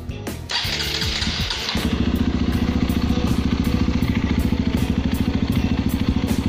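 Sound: Honda CRF150L motorcycle engine with Norifumi Rocket 4 exhaust

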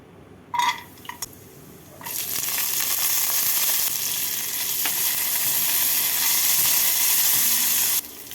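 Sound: raisins and cashews frying in hot white oil in a wok

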